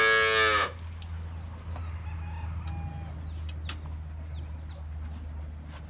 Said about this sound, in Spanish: Miren, ahí están todos los terneritos.